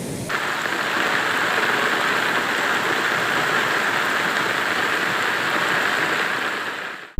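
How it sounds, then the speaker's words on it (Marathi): Heavy cloudburst-like downpour in the Bhuibawda and Karul mountain ghats, a dense, loud, continuous roar of rain hitting surfaces, steady and unbroken throughout with no talk. "भुईबावडा व करुळ घाटात ढगफुटी सदृश्य पाऊस कोसळला"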